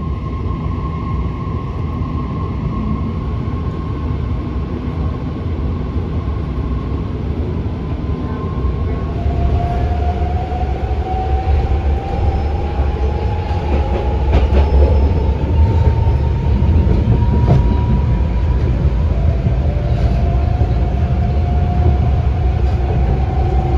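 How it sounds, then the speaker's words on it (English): A BART train runs through downtown Oakland on its way from Richmond, a steady loud rumble of wheels and carriage with rising squeals from the rails laid over it, with no talk heard. "Our train from Richmond is now passing through downtown Oakland."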